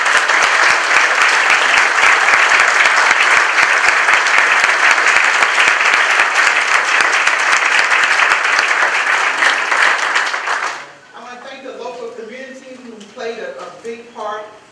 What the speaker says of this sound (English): I think she's the one that deserves an applause.